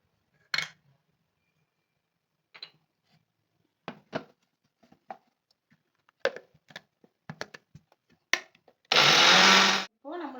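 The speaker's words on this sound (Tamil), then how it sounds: "சேர்த்துட்டு தேவையான அளவு உப்பு போட்டு நல்லா வலுவலு நல்லா அரைச்சிட்டு வரேன்." A kitchen blender grinds a coriander and coconut chutney with salt, starting as a loud, steady, close whir near the end after scattered talk and small kitchen clatter.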